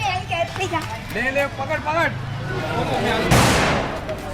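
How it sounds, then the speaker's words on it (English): Fireworks set off by kids in the narrow streets of the Dharavi slum during Diwali: one sharp, loud bang near the end, following a stretch of talk and general street noise. "It's still Diwali, so kids explode fireworks everywhere."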